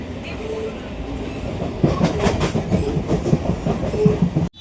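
A passenger train rolling along with rhythmic clickety-clack from the wheels, a steady rumble building louder midway, heard from on board.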